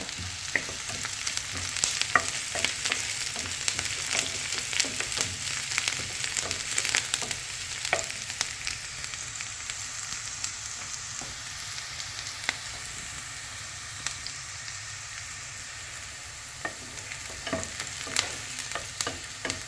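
Onions frying in a pan as they are stirred, giving a steady close sizzle broken by frequent scraping and clinking strokes of the spoon, with no talk, across the whole stretch.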